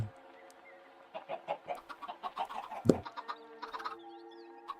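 Chickens in a block-building survival video game cluck and squawk in a rapid run of short calls, with a sharper cry in the middle, close and clear with no talk.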